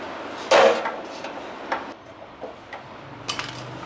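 Metal knocks from a hammer striking a screwdriver to loosen a screw on a gas stove burner, one loud sharp clank followed by several lighter taps and clinks, close up with no talk.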